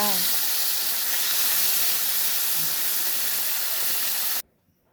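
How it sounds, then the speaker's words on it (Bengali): Prawns fry in hot oil in a wok, giving a loud, dense, steady sizzling hiss that cuts off abruptly near the end. "কড়াইতে চিংড়ি মাছটা ভালো করে ভাইজা লুম"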